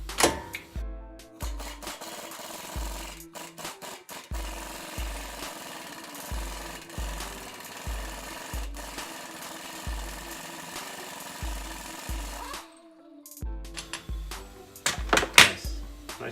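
Impact wrench working on a CV axle nut of a 2012 Dodge Durango, a string of short, loud hammering bursts with pauses between them, close by in a garage, ending with a few heavier rattling hits.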